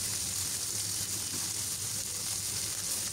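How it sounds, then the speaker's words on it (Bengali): Food fries in a pan with a steady, even sizzle that holds at the same level from start to finish, with no voices over it. "এখন ওই পিঠ ঠিক এভাবে আরেকটু ভেজে নিব।"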